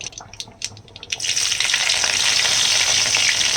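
Curry leaves dropped into hot oil with dal spluttering: a few sharp crackles and pops at first, then a loud, sustained frying hiss that stays close and steady.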